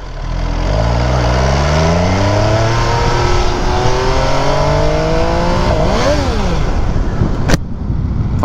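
MV Agusta F3 RR motorcycle engine revving up through several rising pulls, loud and close, with a roaring exhaust that climbs and drops repeatedly.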